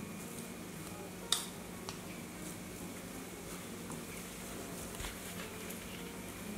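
A rava masala dosa cooks in ghee on a hot pan over a medium flame, giving a faint, steady sizzle with a few light clicks and one sharper tap near the start.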